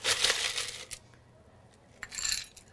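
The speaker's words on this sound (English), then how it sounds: "Now we're filling the mixer with ice." Ice cubes tumble into a cocktail mixing glass in two quick clattering bursts, bright and close, with a short quiet pause between them.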